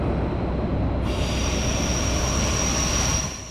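Trains in the main hall of Hamburg Hauptbahnhof at night, under a metal and glass canopy over the tracks: a steady, loud rail rumble with a thin, high wheel squeal entering after a second and holding until the noise fades near the end.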